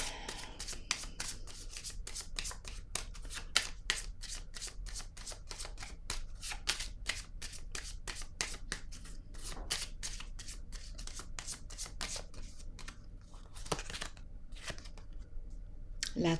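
A deck of cards is shuffled up close in a long run of quick, crisp riffling flutters, with short pauses and softer handling noises in between. No voice can be heard over it.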